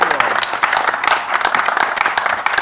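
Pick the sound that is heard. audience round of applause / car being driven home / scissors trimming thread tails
audience round of applause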